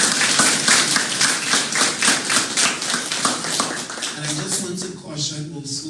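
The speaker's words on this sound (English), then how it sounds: "give them a round of applause" Audience at an inter-school debating competition clapping, a rhythmic run of sharp claps that thins out toward the end as a voice begins to speak.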